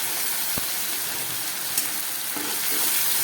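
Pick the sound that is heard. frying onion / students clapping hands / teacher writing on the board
frying onion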